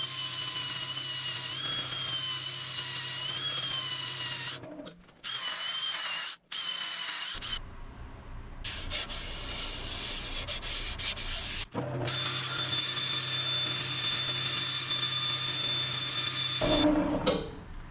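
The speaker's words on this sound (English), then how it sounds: "Sand from 80 to 400, some Yorkshire grit, and then we'll finish the bottom side and take that tenon off." A turned wooden piece spinning on a woodturning lathe is sanded through grits from 80 to 400, with a continuous, fairly quiet abrasive rubbing and whirring that breaks off briefly a few times before resuming.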